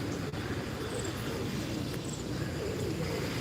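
Pigeons cooing softly somewhere nearby, low and faint against a constant wash of outdoor background noise, with no clear talk.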